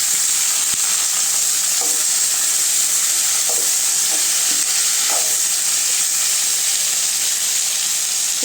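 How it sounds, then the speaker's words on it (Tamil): Eggplant sizzles in a pan with sautéed onions for a Tamil kathirikkai poriyal, a constant bright frying hiss broken by a few soft scrapes of stirring. "இப்போ கத்திரிக்காய் சேர்த்துக்கலாம்."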